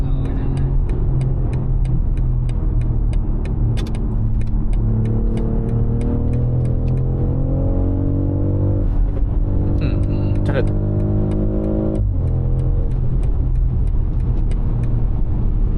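A BMW X3 diesel engine in sport mode drones and rises in pitch through repeated revving climbs, heard from inside the cabin with a voice talking over it.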